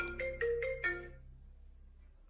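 A phone ringtone plays a short melodic run of four bright ascending notes, then cuts off and leaves near silence.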